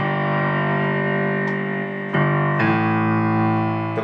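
Piano playing, held chords ringing while a left-hand bass line moves underneath, with two fresh strikes shifting the harmony near the end, no voices.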